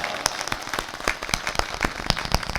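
Scattered hand clapping from an audience at a Hindi poetry gathering (kavi sammelan), with sharp irregular claps rising and falling in loose bursts, moderately loud with no talk over it.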